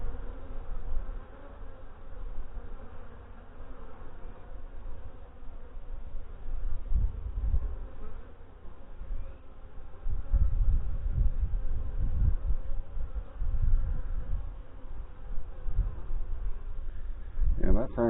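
Honey bees buzz steadily around an opened hive that still wants to swarm, a dense close drone that swells and fades throughout, with faint rustling near the end.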